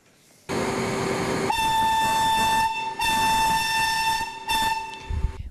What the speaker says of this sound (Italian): Un treno storico che unisce Pietrelcina e Assisi nel segno di San Pio e San Francesco